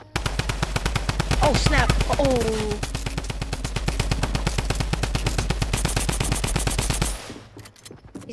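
Rapid automatic gunfire in the video game Fortnite, a long, loud, evenly spaced burst lasting several seconds before stopping abruptly, with a player briefly exclaiming over it.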